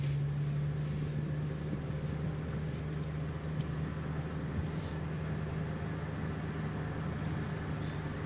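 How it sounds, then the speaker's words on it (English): A 1995 Toyota Tercel cruises on the freeway, giving a steady low engine drone with constant road and wind noise heard from inside the cabin, unbroken and without talk. "Go ahead and take you guys on the freeway here and do a little bit of freeway driving."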